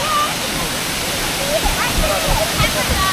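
Toorongo Falls waterfall pouring in a steady broadband rush close by, with children and adults chattering over the water noise.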